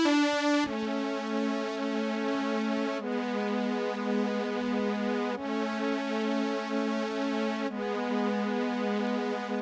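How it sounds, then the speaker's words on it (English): Synth track from an analog mix of a 1982 song, a steady sustained chord loop with chorus, restarting at roughly two-and-a-half-second intervals, loud and continuous with no voices. "I have a synth track which sounds like this."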